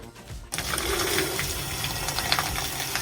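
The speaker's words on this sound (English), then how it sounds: "It has a float valve. It'll fill itself up in about a minute, and it shuts itself off." Water gushes steadily into an ice water bucket at a sauna as its float valve refills it, a continuous close rushing fill that starts abruptly after a brief quiet moment.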